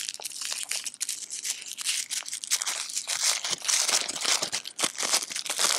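Tissue paper from a Case SMKW Peanut Butter and Jelly knife set crinkles and rustles continuously as it is pulled apart during unboxing, close and fairly loud, with no talking.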